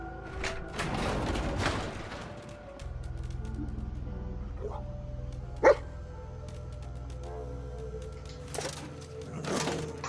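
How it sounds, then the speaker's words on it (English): A dog companion in the video game Fallout 4 barks several times in short bursts against a steady low ambient hum, with a sharp thud in the middle and some faint game noises. "If you hear your dog bark like that, that means he has spotted something."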